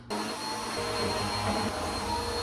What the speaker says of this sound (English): All that's left to do is vacuum and then I'm done with my house reset.